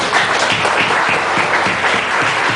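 A congregation claps together during an evangelical deliverance service in a church, a dense, steady wash of many hands sustained loudly throughout.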